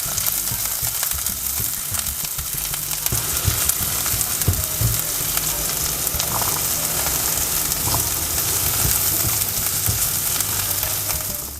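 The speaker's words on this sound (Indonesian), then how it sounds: "Tumis hingga wangi." Shallots, garlic and red and green bell peppers sauté in a pan for a homemade taco filling, giving a steady, close sizzle with occasional stirring scrapes throughout and no voices.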